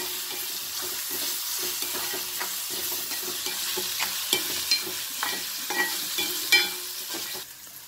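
Tomato with turmeric powder sautéing for paneer burji: a continuous soft sizzle with scattered light scrapes of a spatula, close and even, fading out at the end, no voices.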